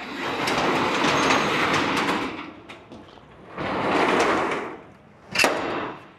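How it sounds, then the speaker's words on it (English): A large shop door rattles and rumbles as it rolls along its track, pauses, rolls again, then lands with a sharp clunk. "I'm gonna shut the door so you don't get crazy light."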